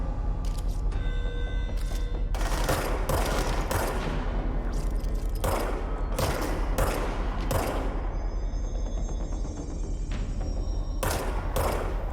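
Gunfire in the video game Control: repeated bursts of pistol shots, rapid and loud, cracking over a dense, continuous in-game backdrop with a few short pauses between volleys.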